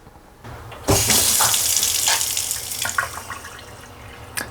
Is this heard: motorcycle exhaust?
no